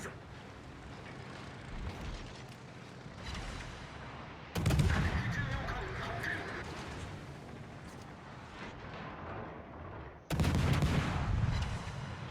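Warship guns in a naval battle game fire heavy shell salvos, with two loud, booming bursts standing out above a continuous rumble of distant gunfire and explosions.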